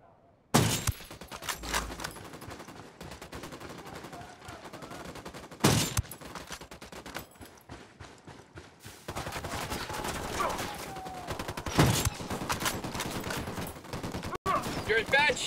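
Gunfire and sniper shots from the video game Ghost Recon Wildlands: sharp loud bursts and a steady rattle of automatic fire, with heavy single reports standing out over a dense battle soundscape.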